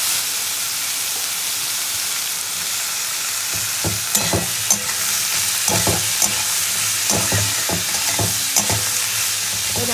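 Onion with salt and turmeric sizzles in a frying pan, a steady hiss that gives way to repeated rhythmic stirring scrapes and knocks of a spatula in the second half; no talking.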